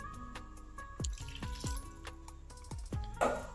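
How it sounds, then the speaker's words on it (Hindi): Water is poured into a simmering potato, pea and tomato curry in a pan, giving faint splashes and bubbling plops with a brief louder gush near the end. "अब हम इसमें 1 कटोरी पानी डालेंगे"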